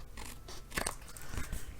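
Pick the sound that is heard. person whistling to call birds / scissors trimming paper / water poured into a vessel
scissors trimming paper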